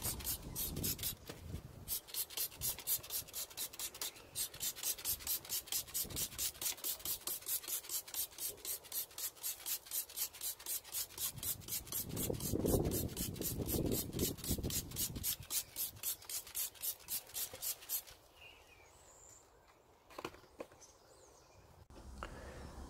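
Brush scrubbing the inner barrels of a car wheel coated with cleaner, a fast rhythmic back-and-forth rasping of bristles, close and steady for most of the time before stopping into quieter handling noises.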